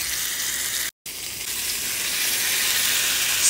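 Steak searing in a hot pan with garlic gives a loud, steady, hissing sizzle close up, continuous apart from a brief cut near the start, with no voices.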